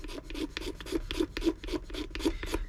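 A file rasps rhythmically across wood to make fine dust for repairing a crack in a Gilchrist mandolin top, about ten quick, even strokes close by and alone.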